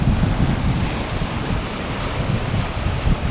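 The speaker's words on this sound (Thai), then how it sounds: "โอ้คลื่นสูงสวยมากนะครับ" Heavy ocean surf rolls and crashes continuously at a beach in Rayong, Thailand, mixed with gusty wind buffeting the microphone, with no voices.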